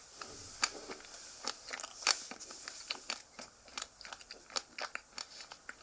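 Ice cream being bitten in small, close bites, a rapid series of crisp crunches and soft crackles, irregular and intimate, with no voices.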